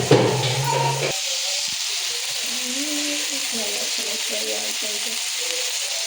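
Field beans, brinjal and potato sizzle steadily in a hot pan for a Kannada tomato gojju, a loud continuous frying hiss after a brief clatter of vegetables going in, with a voice faintly over it.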